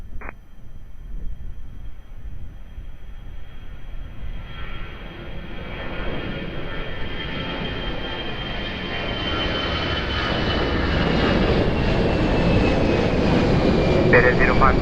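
A Lufthansa airliner on final approach to runway 02 at Lisbon Airport, a steady broad engine roar that slowly swells louder as it nears, with radio talk over it.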